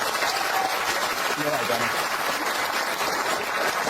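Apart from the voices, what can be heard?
studio audience applause for Sheila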